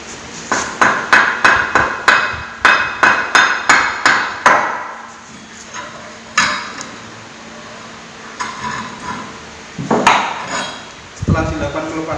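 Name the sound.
wooden mallet hammering a steering rack from its housing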